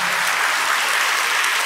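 Worshippers at a church service clap hard on request, a thick, even wall of applause that stays loud throughout the short burst.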